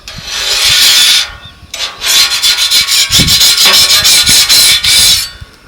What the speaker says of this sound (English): I'm just going to use a scraper and then just scrape it all into this reservoir here